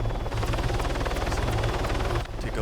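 A helicopter climbing in Arma 3, with loud, continuous rotor chop and a high turbine whine holding steady up close, alone without talk.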